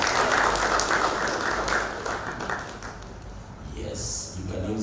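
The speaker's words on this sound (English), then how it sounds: "Let's give them a round of applause as they come." An audience at a football dialogue event in Kenya claps to welcome family members, a dense burst of applause that fades out, with a voice speaking over the crowd toward the end.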